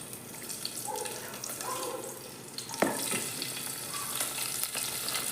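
Mustard seeds and garlic fry in hot oil for kichadi, a steady close crackling sizzle with a clink of a utensil partway through and light stirring, no speech.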